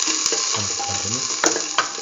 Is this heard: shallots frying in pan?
yes